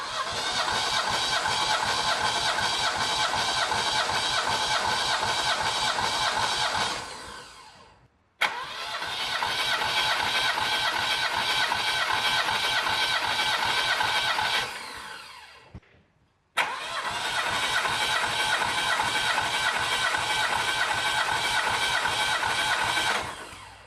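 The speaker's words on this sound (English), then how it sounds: "The engine sounds pretty healthy" Saab 900 Classic engine running at a steady idle, heard in three long loud stretches, each fading out before a brief gap and restarting; no talking.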